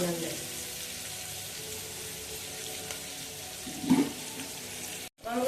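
Onions sauté in a pan with a little salt added, a soft continuous sizzle with a brief stirring scrape, close and fairly quiet, ending in a sudden cut.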